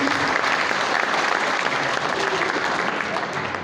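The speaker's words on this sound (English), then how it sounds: "Give me a big round of applause" An audience at a racing event gives a big round of applause, a thick, continuous roar of clapping and crowd noise at steady loudness that eases off slightly near the end.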